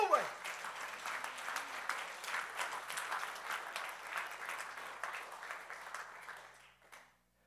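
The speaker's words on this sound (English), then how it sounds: "Give God a hand clap of praise" A church congregation claps in praise at a Wednesday Bible study, a dense burst of hand claps that swells at the start, holds steady, then fades out and stops near the end, fairly faint overall.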